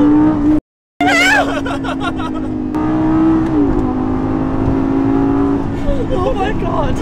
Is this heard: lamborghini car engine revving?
yes